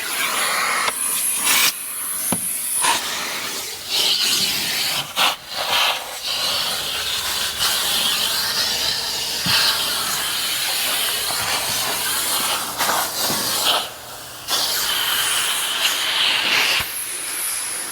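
A loud, steady vacuum cleaner roars with a hissing whine, cutting briefly in and out several times over a long stretch.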